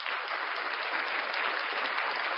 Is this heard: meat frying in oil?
no